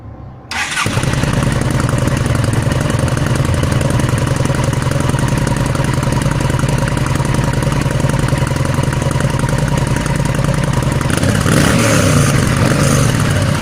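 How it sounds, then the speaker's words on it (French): A Yamaha 1300 Midnight Star motorcycle engine cranks and catches, then settles into a steady, loud warm-up idle that runs on close by with no talking. "comme je vais la démarrer, je vais vous montrer quand même, ou plus ou moins vous faire entendre le bruit du moteur"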